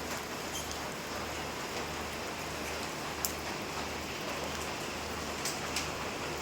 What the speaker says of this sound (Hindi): अब होने लगी है बारिश